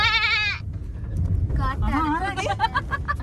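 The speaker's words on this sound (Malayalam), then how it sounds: "കാട്ടാട്" A wild goat lets out one loud, wavering bleat up close. Voices then talk over a low vehicle rumble.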